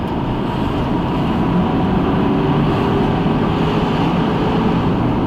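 A 2000 Chevy Suburban engine pulls hard through its gears while climbing a hill, a steady, full-bodied drone heard from inside the cabin with road rumble and no talking.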